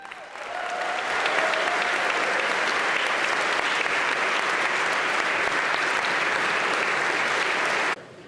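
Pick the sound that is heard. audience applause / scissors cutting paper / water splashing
audience applause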